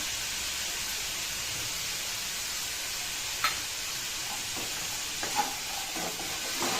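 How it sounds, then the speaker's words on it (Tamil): Capsicum sautéing with salt in a pan for Tamil thuvayal, a steady hiss of frying with a few light scrapes and clicks from stirring near the end, close by with no talk. "நல்லா வதக்குங்க"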